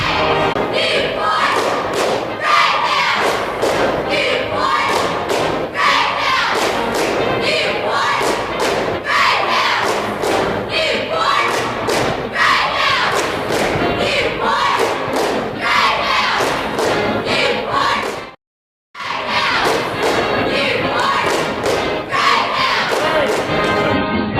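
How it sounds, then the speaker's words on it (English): Drill team, cheerleaders and crowd cheer for the Hounds at a sports event: a loud, continuous wall of shouting and chanting with rhythmic thumping beats that runs nearly unbroken, with one brief dropout near the end. "The alumni and current drill team, Whippets, cheerleaders, cheering for the Hounds."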